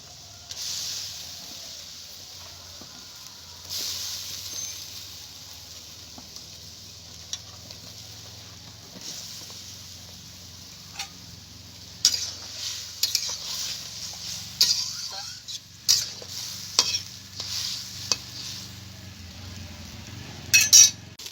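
Cut eggplant pieces being fried in a pan, a faint steady sizzle running underneath while a utensil stirs and clinks against the pan at irregular intervals, growing busier toward the end.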